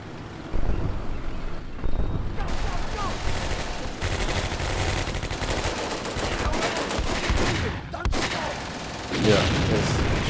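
Gunfire with shells fired from a gun in the WWII strategy game Combat Mission: Beyond Overlord, a dense, continuous stretch of rumbling shots and blasts with wind-like noise, loud and sustained across the whole passage.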